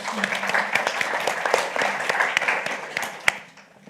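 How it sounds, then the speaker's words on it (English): Lively audience applause greets a speaker at a business talk, with crisp individual claps over a steady wash of clapping that tapers off near the end, a voice faintly beneath. "Give him a round of applause."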